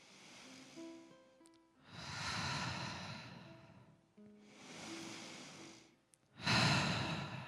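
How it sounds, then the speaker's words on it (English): Slow, deep breaths during a guided meditation at a church service, with long audible inhales and exhales alternating in a calm rhythm, close and fairly soft, with no talking. "Take a few deep breaths here."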